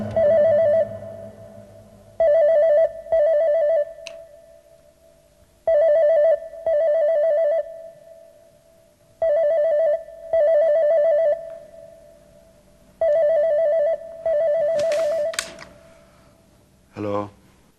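A telephone ringing with a steady electronic ringtone, repeating in paired bursts roughly every few seconds, loud and close, with a short sharp sound at the end.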